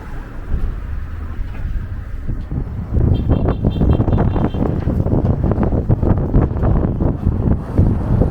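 Gusty wind buffets a microphone while walking along 3rd Avenue in Bay Ridge, Brooklyn, a low roaring rush that grows stronger and steadier partway through, mixed with faint street noise.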